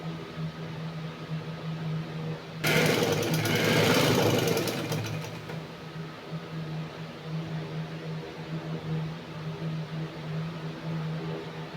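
A sewing machine stitches a belted salwar in one steady burst of about three seconds, its rapid mechanical chatter rising over a low room hum. Quiet follows.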